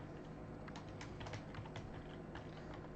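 Typing on a computer keyboard, a quick uneven patter of soft key clicks close by, steady and quiet for a few seconds with no voices.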